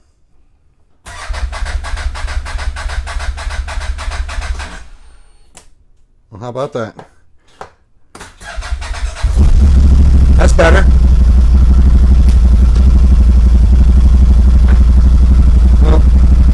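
A 2021 CFMOTO Z950 motorcycle engine cranks in short bursts, then catches and settles into a loud, steady, close idle, with someone speaking briefly over it.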